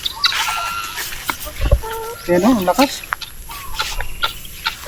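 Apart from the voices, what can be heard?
chickens clucking on a farm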